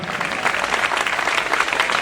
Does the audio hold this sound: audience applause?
yes